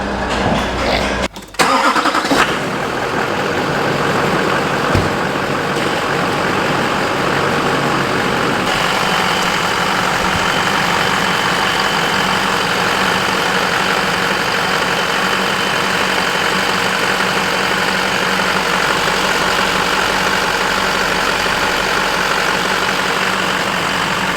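Service truck engine cranks with a short rough churn, catches and settles into a loud, steady mid-pitched idle inside a shop bay, running on unchanged for the rest of the stretch.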